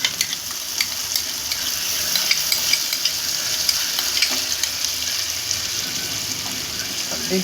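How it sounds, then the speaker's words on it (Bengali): Hot chicken curry sizzles loudly in the pan as sour yogurt goes in and gets stirred, producing a steady crackling fry with scraping stir sounds throughout, close and continuous. "এবার আমি টক দইটা দিয়ে দিচ্ছি।"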